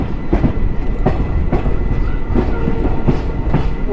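Amaravati Express passenger train running in a second AC coach on the Shalimar to Madgaon route, with a steady loud rumble and repeated rhythmic clickety-clack wheel beats over rail joints, no voices.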